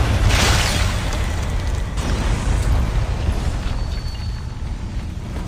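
A loud explosion in the video game Dishonored bursts at the start, followed by a rumbling, crackling tail of debris that slowly fades over several seconds, with no voices.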